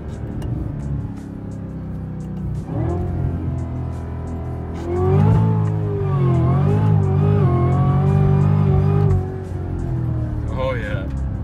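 A 2018 Cadillac CTS-V with a cold air intake accelerates hard, its engine note climbing with a rising whine through the middle before easing off; people talk inside the car.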